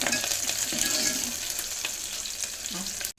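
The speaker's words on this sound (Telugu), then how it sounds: "2 రెమ్మలు కరివేపాకు రెబ్బలు వేసి తిప్పాలండి" Curry leaves frying and stirred in a hot tempering for tomato rasam: a bright, crackling sizzle with occasional stirring scrapes, fairly loud and close, cutting off abruptly at the end, no voices.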